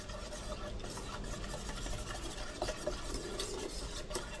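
Soup powder being stirred into water in a pot on a Trangia camping stove, giving a steady, close scraping and swishing stir with faint clinks of the utensil and no speech.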